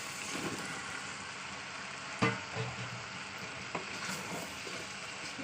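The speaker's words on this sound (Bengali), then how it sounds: "এখন দু মিনিট ধরে কষাবো" Ridge gourd and potatoes stir-frying in a pan give a soft continuous sizzle, broken by a few brief spatula knocks and scrapes, close and fairly quiet, with no voices.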